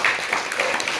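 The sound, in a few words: audience applause at ceremony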